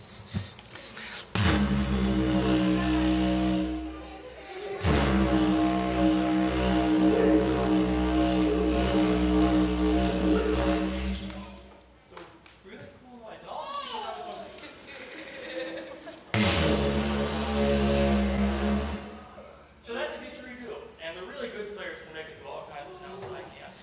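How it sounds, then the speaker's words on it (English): Didgeridoo played live with deep, rich, sustained drones in long breaths separated by pauses, broken by gruff animal-like vocalized bursts and growls through the instrument. "Now we've got these great low drones and kind of animal noises from the didgeridoo."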